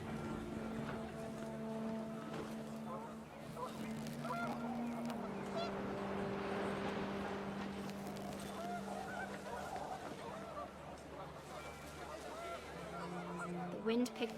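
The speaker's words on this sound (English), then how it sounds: "The wind picked up, and panicked geese appeared and quickly went." Panicked geese honk in the video game What Remains of Edith Finch, overlapping calls over wind, loud at first and then thinning out as the flock moves away.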